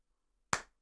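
A single sharp hand clap, close and loud, ringing out once after a stretch of silence, the slow start of a deliberate round of applause.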